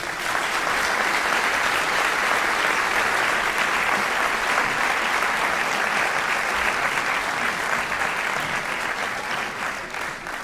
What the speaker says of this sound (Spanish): o primeiro aplauso, por favor